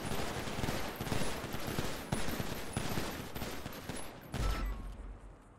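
A rapid string of gunshots at a police academy firing range in GTA NoPixel, fired in quick bursts with steady cracks under a loud, dense background of game sound, with no talking.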